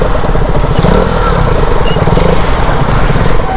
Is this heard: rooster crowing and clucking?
no